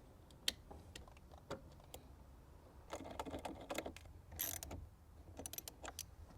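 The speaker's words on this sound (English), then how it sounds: "I will not be using an impact wrench or any tools, just use a hand wrench like this." A hand wrench works on a BMW battery terminal with scattered ratcheting clicks and metallic taps, quiet and close, coming in short bursts with pauses between them.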